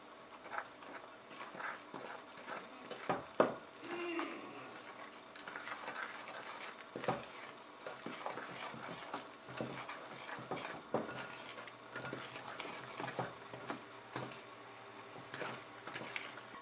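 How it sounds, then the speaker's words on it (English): A spoon works through thick brownie batter made with butter in a bowl, giving soft, repeated scraping and thudding strokes with occasional knocks against the bowl, fairly quiet and close. "Then we'll just stir that to combined."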